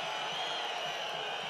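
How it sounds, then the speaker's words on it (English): A rugby crowd at a HEC Montpellier v Ulster match roars in a steady, distant wash of cheering, a broad sustained swell of voices with no distinct individual calls. "The crowd have really found a voice now."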